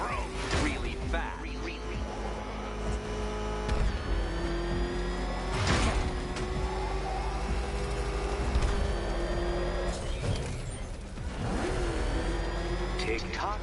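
The Batmobile tearing along at speed in Batman Arkham Knight, a revving engine whine rising and falling under ongoing speech, with sharp thuds and impacts scattered through.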